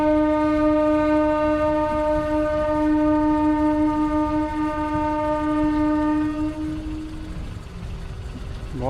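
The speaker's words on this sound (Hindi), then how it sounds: "वहाँ से ट्रेन क्रॉस हो रही है और मुझे रुकना पड़ता है।" A train's horn sounds long and loud at a railway crossing on a road out of Ramnagar, its steady chord holding for several seconds before fading into the rumble of wagons passing close by.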